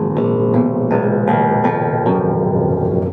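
Bass strings of a theorbo plucked one after another in a descending scale, about seven resonant notes at an even pace, each ringing into the next, close and clear with no talking.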